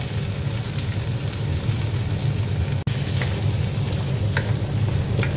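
Broccoli, corn and shrimp sauté in butter in a hot pan, giving a steady, dense sizzle close up with faint crackles and one brief dropout midway.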